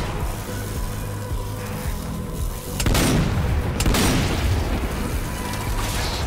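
A blast goes off in the zombie shooter game Zombie Army 4, set off by a suicide zombie, a loud burst rising abruptly about three seconds in over steady game noise and mechanical clatter, then settling back.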